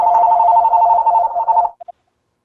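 A telephone rings loudly in a formal meeting room, one steady electronic trill lasting under two seconds, then two short clipped blips as it stops.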